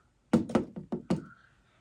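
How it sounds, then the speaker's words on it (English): Five firm knocks on a door, close and loud, spaced in an uneven rhythm over about a second, with a faint tone lingering after the last one and no talking. "And he'll come and he'll knock."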